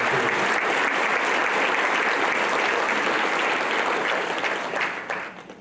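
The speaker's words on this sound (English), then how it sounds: "Let's give these folks a round of applause." A large audience in an auditorium applauds at an awards evening for teachers, a loud sustained wash of clapping that stays full and even before thinning slightly at the end.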